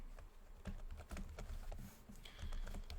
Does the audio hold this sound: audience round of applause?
no